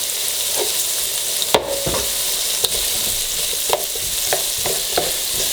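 Onions frying in a pot for jambalaya with seafood seasoning and bay leaves, a steady sizzle throughout with a few sharp stirring clicks and scrapes of a utensil at irregular intervals.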